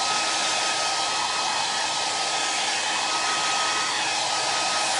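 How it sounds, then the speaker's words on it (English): A hair dryer blows steadily and close, drying a chalk transfer with a loud, unbroken whooshing roar that lasts the whole stretch with no pauses. "I'm going to use my trusty hair dryer, and let's dry this one up."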